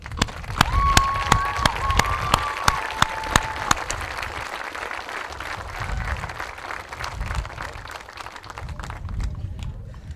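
Athletes at a 7th grade awards ceremony receive a round of applause from the audience, steady dense clapping filling the hall for about ten seconds, with a few sharp claps standing out early and faint voices beneath.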